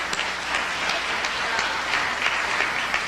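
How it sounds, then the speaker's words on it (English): An audience claps in a sustained, dense round of applause at a talk on African heritage, with loud, even hand-clapping and a few sharper individual claps throughout. "let's give ourselves a round of applause"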